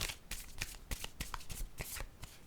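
Playing cards are handled and drawn from a deck in a rapid run of close, soft papery flicks and riffles, with no voices.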